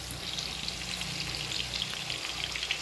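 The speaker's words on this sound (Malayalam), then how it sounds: "അപ്പോൾ ഉള്ളി ഒന്ന് വഴന്ന് വരട്ടെ" Whole small onions and curry leaves fry in a pan with a steady, close, dense sizzle and crackle that holds constant throughout, with no voices.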